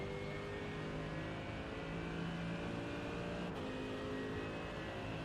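Mercedes AMG GT3 EVO race car engine in iRacing at Le Mans, a steady loud drone that holds at high revs throughout, close and continuous with a brief shift near the end, no voices.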